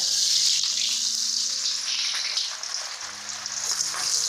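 Sliced onions hitting hot oil just after mustard seeds have popped, giving a steady close sizzle and crackle that dips briefly midway and then builds back, with no voices.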